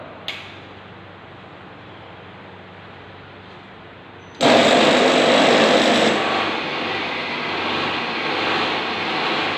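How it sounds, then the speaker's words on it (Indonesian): An electric generator, switched on with its control start button as part of an electrical installation, kicks in abruptly partway through after a quiet stretch, then runs as a loud, steady broadband drone that settles slightly lower and continues to the end. "Lalu kita tekan tombol start pada generator kontrol."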